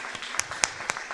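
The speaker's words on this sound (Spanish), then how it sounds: "¿Por qué no le damos un fuerte aplauso a Jesucristo," Church congregation applauding during a Spanish-language sermon, a brief burst of a few distinct claps over quiet room noise.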